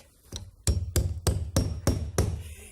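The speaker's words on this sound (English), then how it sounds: "Get me a hammer and nail, quick." Hammer strikes a nail in a DIY job: six sharp, evenly spaced blows, loud and close, with no talking.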